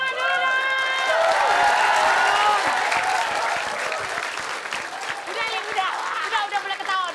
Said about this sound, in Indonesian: Siap kita tepuk tangan dulu dong.